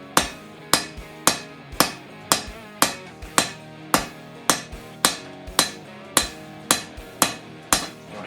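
A hammer strikes hot Damascus steel while a Go Mai knife blade is forged. The blows are loud, sharp and evenly spaced, about fourteen of them, with short ringing decay after each and no talk.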